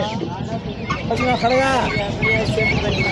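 Busy poultry calls, gobbling turkeys and clucking birds overlapping with someone talking throughout, fairly close and steady.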